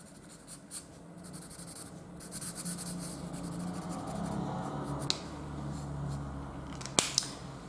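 Ohuhu alcohol markers scratch and rub across paper, soft intermittent strokes close by with a few sharp taps, while a faint voice speaks in the background.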